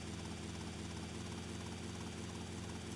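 Helicopter flying in GTA Vice City Definitive Edition: a continuous loud rotor thump with a steady engine drone, unbroken throughout with no talking.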